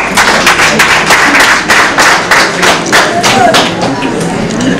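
Audience clapping at a lively gathering, a dense run of sharp, rhythmic claps close by, with a voice talking over the applause.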